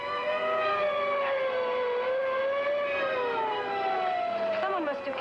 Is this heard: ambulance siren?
yes